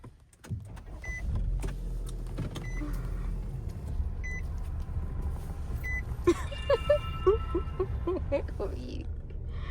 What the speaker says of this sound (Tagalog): Hindi, uatras ko yung kotse.